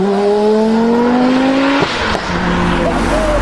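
An Audi five-cylinder engine revs hard and loud, its pitch climbing steadily for nearly two seconds before a sharp break, then a lower rasping tone returns.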